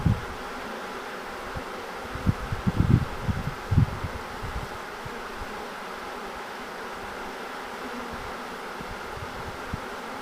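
Honey bee swarm buzzing in a bush in Red Bluff, California, a dense continuous hum with a few close rustles and bumps near the start.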